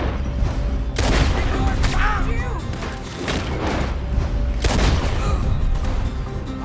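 Gunfire crackles through a Red Dead Redemption 2 shootout, with loud sharp volleys of shots and booming blasts in bursts, mixed with voices talking during the fight.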